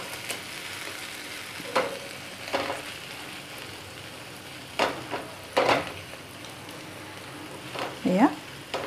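Chutney fries in a pan, a low continuous sizzle broken by several sharp scraping stirs and clatters, fairly quiet and close.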